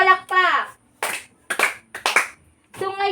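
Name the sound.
class clapping three times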